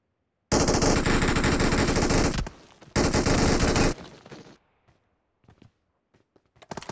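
Machine gun fire in the mobile battle royale game BGMI: two loud, sustained automatic bursts of roughly two seconds and one second, close and dense, followed by a short tail and a few scattered faint shots.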